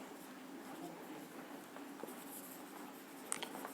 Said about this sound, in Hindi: हम कुछ सेंटेंस लिखते हैं